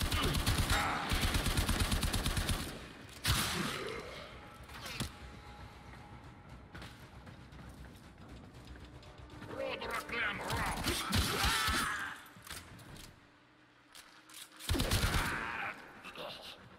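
Gunfire in the game Warframe, bursts of rapid shots at the start and again near the end, with quieter stretches of game sound and scattered impacts between.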